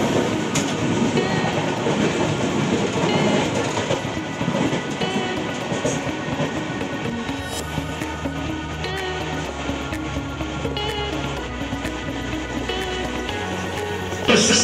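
A Vistadome coach on the NJP to Alipurduar route runs steadily with continuous rumble and rhythmic clickety-clack of wheels on rails, heard from inside the carriage with no one speaking.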